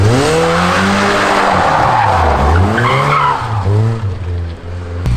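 A Nissan S13 drifts on SSR Longchamp wheels. Its tires squeal loudly and continuously while the engine revs rise and fall in sweeping waves underneath, all close and intense throughout.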